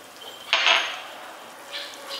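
Sesame oil and Chinese wine being stirred into a simmering pot of all-purpose stir-fry sauce: a brief clatter of utensil against the pot, then quieter scraping and a faint later scrape.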